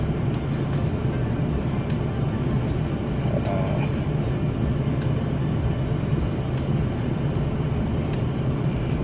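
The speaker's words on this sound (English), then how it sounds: "I'm just trying to pull my car up." A car being driven and pulled up, heard as a steady, loud wash of engine and road noise that holds constant throughout with no voices.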